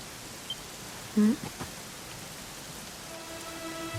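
Rain falls in Dragon Quest XI as a steady, soft hiss throughout, with a brief voice-like sound rising over it partway through.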